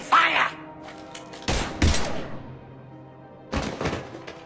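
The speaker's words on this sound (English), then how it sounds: "Now open fire!" Gunfire in Mass Effect 3: a few loud, heavy blasts and short volleys, close and booming, separated by brief pauses with a lingering low rumble.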